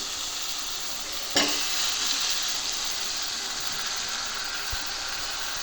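Chicken pieces stirred into a hot curry pan with curry leaves, a sudden scrape at the start followed by a steady broad sizzle that continues alone at close range.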